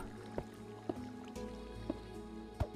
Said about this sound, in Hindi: चलो भी अब पानी भर चुका है नीचे